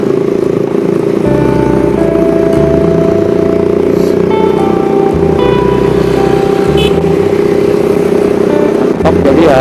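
A cruiser touring motorcycle is heard while riding, with a loud, steady engine drone and a constant wind rush close by. The engine's pitch shifts slightly throughout.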